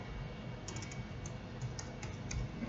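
Soft, faint keystrokes tap on a computer keyboard in a quiet room, a handful of light clicks spread irregularly across a short moment.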